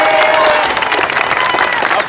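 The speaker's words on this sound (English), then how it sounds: "Okay, clap it up." Group of basketball players at tryouts in Atlanta clapping together in a loud, dense burst of claps and crowd noise, close and steady for about two seconds.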